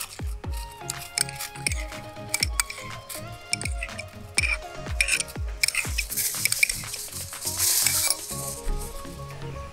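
Ginger garlic paste sizzles and fries in oil while a utensil stirs it. Repeated scraping and clinking strokes from the pan run steadily over a continuous hiss, which grows brighter toward the end.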